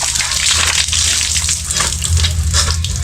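Cold water gushes loudly and continuously from a tap, splashing and churning up close without a break, with no one speaking.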